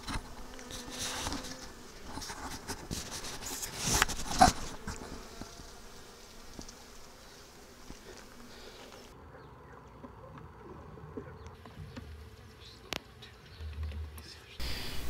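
Honeybees buzz steadily around an open beehive during an inspection after comb was removed, a continuous close insect drone with a few louder bumps and handling noises.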